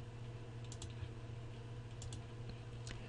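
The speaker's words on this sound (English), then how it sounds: "use the left click to trim the lines that we don't need" Faint clusters of computer mouse clicks while lines are trimmed in CAD software, a few light taps in pairs over a low steady background hum.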